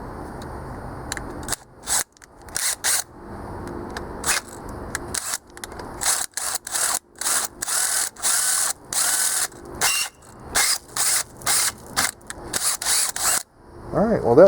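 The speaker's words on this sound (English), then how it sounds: "Alright, well that drilled that out." A power drill whirs in many short, loud bursts as it bores out metal at the coolant bypass of a Chevy 350 small-block water pump, stopping and starting repeatedly up close.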